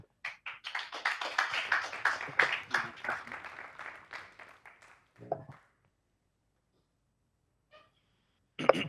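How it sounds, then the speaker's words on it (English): An audience at a startup pitch event claps for a presenting company's CEO; dense applause runs for about five seconds, then fades into silence before a brief sound near the end. "A round of applause."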